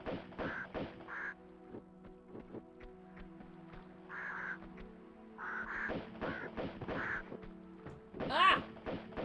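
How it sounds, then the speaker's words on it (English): Birds in Tomb Raider II calling repeatedly in short harsh squawks, moderately close, over a steady low hum and faint game ambience, with a sharper screech near the end. "Fucking birds, man."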